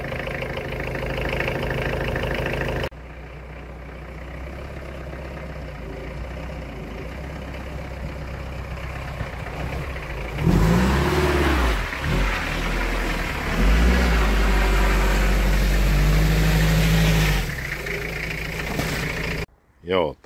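A Datsun 720 pickup starts up and idles, then revs up in two loud surges before dropping back and cutting off, heard up close.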